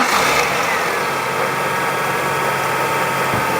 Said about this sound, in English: you can hear the power steering pump sounds normal now